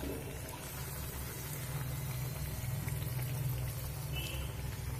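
Egg luchi deep-frying in hot oil as it puffs up, a steady, fairly quiet bubbling hiss that carries on without a break and with no talking.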